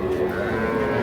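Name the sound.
bull calf mooing at a cattle market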